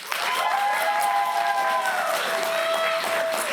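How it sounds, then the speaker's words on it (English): Sparse, scattered clapping from a comic convention audience, a thin smattering of hands alongside a few whoops and some faint chatter, lasting a few seconds before fading. "Oh, the pity claps."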